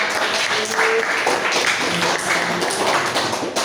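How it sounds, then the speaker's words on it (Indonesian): Applause in a classroom of teacher trainees, dense clapping with scattered tapping that holds steady for several seconds while a few voices murmur underneath. "tepuk tangan untuk jawabannya"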